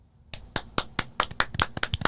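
Quick burst of close, sharp hand claps, about a dozen, beginning abruptly after a brief pause and speeding into an uneven patter, as on a podcast set.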